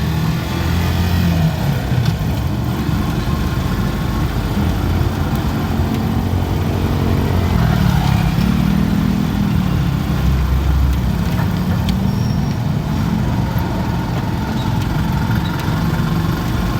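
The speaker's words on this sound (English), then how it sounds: "lots of motorcycles" Dense city street traffic with many motorcycles, a continuous loud rumble of idling and passing engines that swells and fades, heard from within the flow with no pauses.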